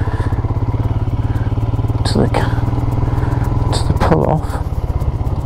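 A Royal Enfield Himalayan motorcycle rolls along a rail trail, its single-cylinder engine thumping in a close, steady rhythm while the rider talks over it.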